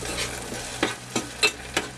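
Chopped garlic sizzles in oil reused from frying chicken thighs, with bits of ginger, a soft steady hiss broken by several sharp scraping stirs of a utensil against the pan.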